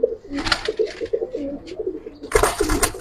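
Old-breed Giribaz pigeons coo at a loft, close rhythmic throaty coos repeating in runs, with a few wing flutters or rustles and a louder burst near the end.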